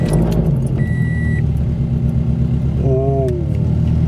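A car engine fitted with newly installed Tomei UEL headers runs with a loud, steady, rumbling exhaust throughout, while a short whistle-like tone and a brief voiced exclamation sound over it.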